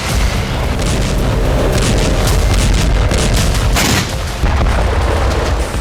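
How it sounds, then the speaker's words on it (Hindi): Loud, continuous barrage of booming explosions and blasts in war-zone combat, with overlapping bursts and a sustained rumbling roar throughout, no speech. "यहां होने वाले धमाके, यहां उठने वाली आग की वजह है अमेरिका से भेजा गया बारूद।"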